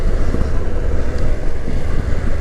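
A 2024 BMW F900 GS motorcycle riding on knobbly tyres: steady loud roar of engine and road noise mixed with strong wind buffeting against the microphone, continuous throughout, no talking.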